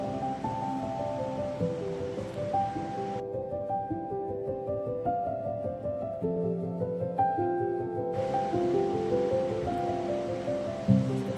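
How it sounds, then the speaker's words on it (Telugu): Hot water being poured off boiled meal maker (soya chunks) in a kitchen, a steady splashing rush at the start and again near the end, with music playing throughout. "ఇప్పుడు ఇందులో నుంచి హీట్ వాటర్ని తీసేసి"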